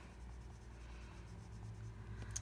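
Colored pencil rubbing across a butterfly card, a faint, steady scratchy scribble of close strokes continuing without pause, with no voices.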